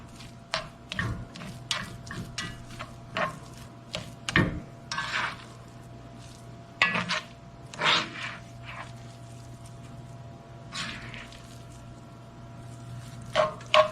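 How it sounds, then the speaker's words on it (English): Cooked Mexican rice being fluffed in a pot with a utensil, giving a run of soft scraping, rubbing taps and light clinks of moderate loudness, close by with no talking. "So let's fluff up this rice"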